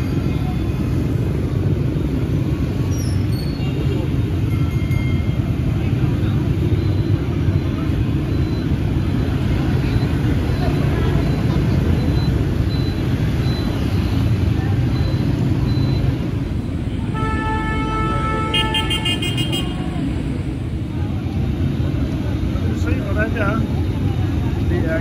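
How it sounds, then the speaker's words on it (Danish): Busy Hanoi street traffic roars continuously with cars and motorcycles passing close by, and several horns toot partway through, loud and dense throughout. "Her går man bare over imellem biler, imellem motorcyklerne."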